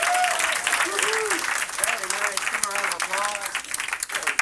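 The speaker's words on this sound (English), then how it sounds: "Give a round of applause." Audience applause at an improv comedy graduation show, a steady burst of clapping from a small crowd with voices and cheers rising over it.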